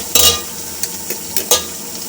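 Steady sizzling of garlic-ginger paste frying in hot oil, with a few stirring scrapes and clinks of a spoon against the pan.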